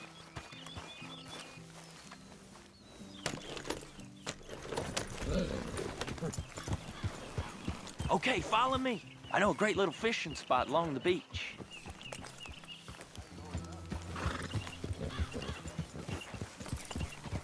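Horse hooves clip-clopping at a walk in Red Dead Redemption 2, close and steady under game dialogue, with a brief whinny-like call partway through and a background musical score.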